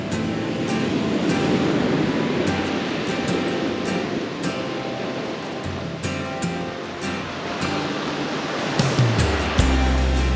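Ocean waves roll steadily onto the beach at Dana Point Headlands, California, a continuous loud wash of surf with no voices.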